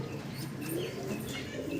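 Pigeon of a high-flying breed cooing up close, a soft low burbling coo running through the short moment with faint background noise.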